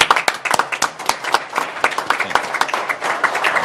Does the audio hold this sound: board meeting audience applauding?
yes